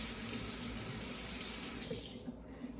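Kitchen tap water runs steadily into a sink while something is rinsed under it, a close, continuous splashing that cuts off near the end, leaving only faint drips.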